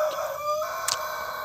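A rooster crows once, loud and close, with a brief clucking burst near the end; it is a chicken sick with ngorok, a snoring respiratory illness, though no rasp stands out.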